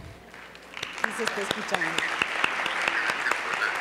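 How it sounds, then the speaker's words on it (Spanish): Audience applause at a Jesuit university panel, a steady wash of clapping with sharp individual claps throughout, fairly close and sustained, with a voice speaking briefly over it. "Luis, un aplauso para ti"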